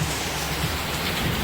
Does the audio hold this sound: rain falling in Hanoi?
yes